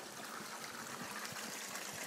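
Water trickles steadily out of the end of a pipe after passing through a silt filtration system, a soft continuous splashing flow with no speech.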